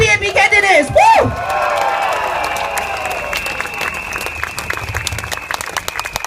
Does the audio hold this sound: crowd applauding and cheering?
yes